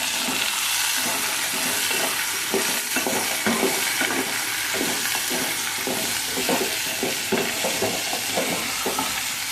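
Ginger-garlic paste is added to a spiced mixture frying in a pan for a stuffed brinjal curry, giving a loud, continuous sizzle broken by repeated scraping stirs of a spoon.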